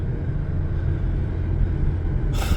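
A taxi car in Poland drives on a road after turning around, its steady low engine and road rumble continuous and close, with a brighter hiss swelling in at the very end.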